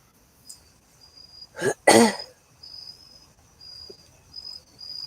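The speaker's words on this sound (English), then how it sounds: "you got crickets out there?" Crickets chirp outdoors at night as a faint, intermittent high trill in the background, broken by a couple of loud, close coughs or throat-clearing bursts.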